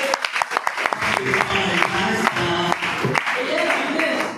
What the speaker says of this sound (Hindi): तो बैठिए जोरदार तालियों में